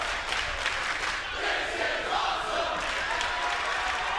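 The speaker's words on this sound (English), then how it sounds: "listen to this crowd showing their appreciation" A large arena crowd at the TNA Lockdown 2006 wrestling event cheers and roars continuously, a dense, loud, sustained wall of voices with no single voice standing out.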